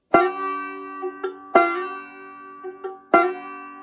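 Banjo picking for Cripple Creek: three strong notes sliding up on the first string, with softer thumb-string plucks ringing between them, steady and close with no voices.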